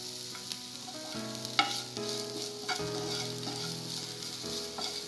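Onion and carrots with a pinch of salt stir-frying in a pan for a tawa vegetable pizza topping, a quiet steady sizzle under a faint tonal hum, with occasional spatula scrapes.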